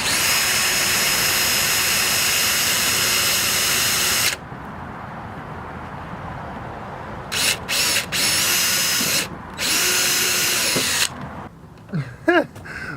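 Power drill boring a small hole for a quick-release front bumper mount: a loud, close whine for several seconds, then quieter stretches broken by short repeated drill bursts and a few faint clicks.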